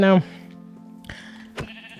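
A sheep bleats once, loud and close, in a video game, followed by a steady low hum and a couple of soft clicks.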